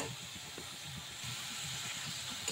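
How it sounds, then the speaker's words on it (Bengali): Chopped large shrimp sizzle in a pan while being stir-fried with potol, a steady hiss of frying oil with faint stirring knocks beneath, close and continuous. "চিংড়িটা দিয়ে আর একটু কষে নেব।"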